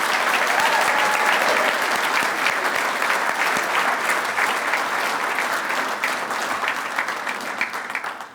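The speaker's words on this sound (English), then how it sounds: "How about another round of applause for our 10 inductees?" An audience applauds hall of fame inductees at an athletics ceremony, with dense sustained clapping that stays loud at first and slowly tapers off toward the end.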